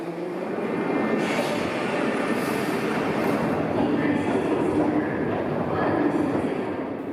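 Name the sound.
metro train running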